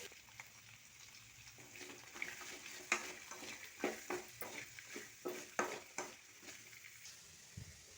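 Mustard seeds, cumin and curry leaves frying in two spoons of oil in a kadai, a steady close sizzle broken by a run of sharp crackling pops that grow denser toward the end.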